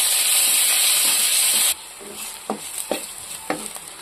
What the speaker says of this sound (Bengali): এবারে আমি পেঁয়াজ, ক্যাপসিকাম, লঙ্কাটা দিয়ে এগুলোকে একটু ভেজে নেব।